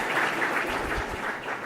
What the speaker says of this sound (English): So why don't we all give ourselves a round of applause for that.